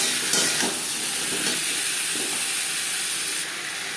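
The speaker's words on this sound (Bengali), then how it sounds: "লবণ হলুদ দিয়ে তিন চার মিনিট আলু ভেজে নেবে" Potatoes fry in oil with turmeric and salt, making a continuous loud hissing sizzle with a few soft stirring scrapes and no talking.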